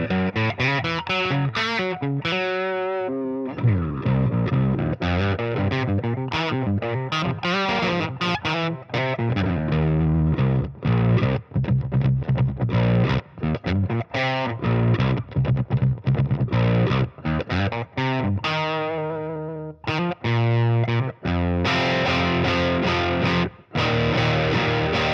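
Distorted baritone electric guitar played through a Neural DSP Nano Cortex with its pitch transposer engaged, heavy chugging riffs and sustained chords with tight gated stops, loud and close.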